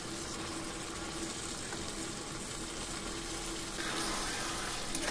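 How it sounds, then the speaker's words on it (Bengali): Pieces of mutton hit a hot pan of oil and lightly spiced masala, giving a steady, broad sizzle that runs unbroken and grows slightly louder near the end. "ধুয়ে রাখা মাংস দিয়ে দিচ্ছি।"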